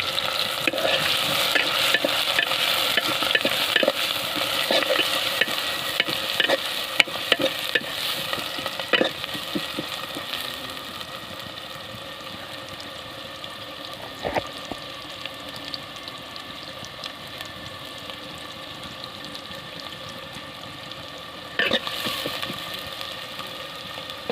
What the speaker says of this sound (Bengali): দেখো কড়াইতে পেঁয়াজ দিচ্ছি এখন